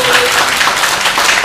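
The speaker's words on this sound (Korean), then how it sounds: "우리 수고해 주신 우리 세 분께 큰 박수 부탁드리겠습니다." An audience at a live community media broadcast applauds, a short, loud burst of dense clapping heard up close.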